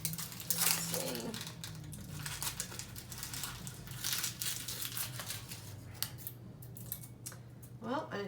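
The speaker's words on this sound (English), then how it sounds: "And then I just peel off this top layer here." The papery outer skin of a purple onion is peeled off by hand in the kitchen, giving close, dry crinkling and crackling that keeps going throughout, with a faint steady hum underneath.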